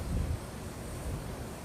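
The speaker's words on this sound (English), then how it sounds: "Oh, there's some real gusts coming in now." Strong outdoor wind buffets the microphone in a steady low roar, with a heavier gust at the start, while a small Parrot AR Drone 2.0 is flown near parked cars.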